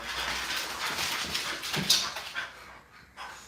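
American Bully dogs whimper and pant close by in soft, breathy whines and short huffs, with one sharper yelp partway through before the sounds fade and briefly return.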